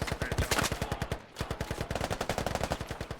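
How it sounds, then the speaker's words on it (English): Rapid automatic gunfire rattles in a steady stream of sharp, closely spaced shots, loud and close, in a military shooter game set in urban close-quarters streets. The firing pauses briefly partway through and then resumes. "Bison full autos at PKM again, but not as lucky this time"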